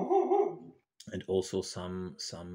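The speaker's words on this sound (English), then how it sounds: "And that sound was my dog" A pet dog barks a few times, quite close, in short bursts with someone talking over and around it.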